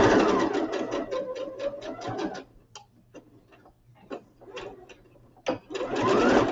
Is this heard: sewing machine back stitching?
yes